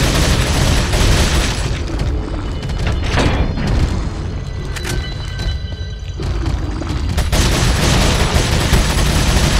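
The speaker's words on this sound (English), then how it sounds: "Ooh! Explodey barrels! I'm gonna use that to my advantage." Explosive barrels blowing up under gunfire in Resident Evil 4, a continuous loud barrage of booms and rapid shots layered densely together, with bursts of blasts throughout.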